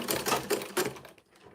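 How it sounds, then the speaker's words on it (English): A sewing machine stitches a bag, its rapid mechanical chatter close and loud in a short run of three pulses before trailing off quietly. "I'm going to sew all around it."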